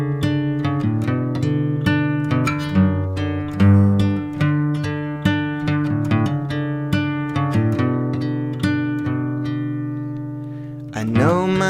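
A song plays, led by plucked, tuned notes over a steady sustained harmonic bed, moderately loud, ending with a rising swell.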